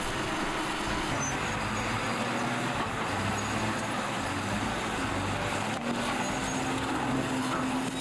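Heavy lorries pounding a winding switchback mountain road between Massawa and the capital, a continuous low engine rumble and road roar holding steady throughout, with no speech.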